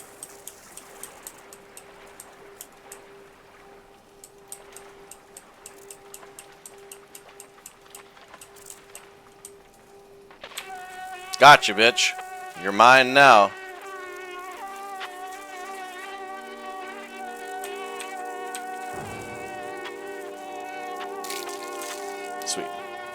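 Insects buzzing in the dark platformer game Limbo, a thin whining drone of mosquitoes running steadily throughout, joined midway by louder sweeping game effects and a low hum, with a voice briefly speaking over it.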